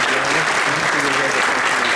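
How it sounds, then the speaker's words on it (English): Audience applause for students who play sports fills a school event, steady close clapping throughout with murmuring voices underneath. "You can clap for them, it's okay."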